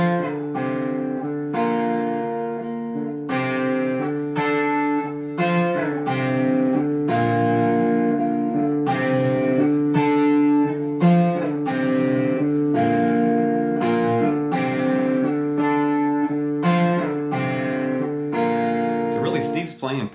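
Electric guitar with an effects-laden tone plays partial chords from a rock song, letting them ring over a D root note, in sustained rhythmic strums that stay loud and clear throughout.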